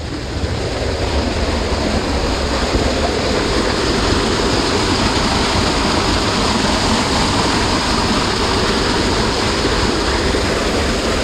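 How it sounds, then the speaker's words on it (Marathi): Heavy rushing water from a large waterfall beside a village temple in the Konkan countryside, swollen by monsoon rain, roaring loud and steady throughout with no break. "इथे काय मोठा धबधबा झाला वाटतं"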